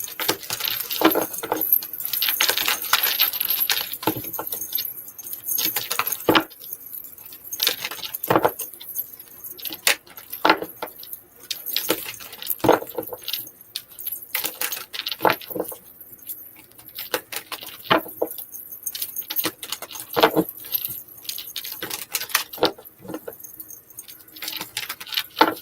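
Repeated riffling and soft slapping of tarot cards being shuffled, close up, in irregular bursts throughout with no talking.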